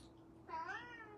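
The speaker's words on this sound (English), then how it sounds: "Excuse the cat." A cat gives a single short, fairly faint meow against a quiet indoor background.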